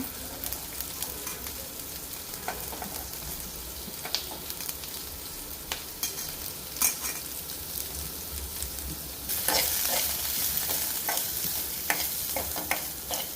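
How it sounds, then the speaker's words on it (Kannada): Onion, coriander seeds, cumin and mustard seeds are dry-roasted in a pan over a low flame, giving a continuous soft sizzle with frequent scraping stirs that grows louder and brighter near the end. "ಸಣ್ಣ ಫ್ಲೇಮಲ್ಲಿ ಈ ಥರ ಹುರಿಬೇಕು"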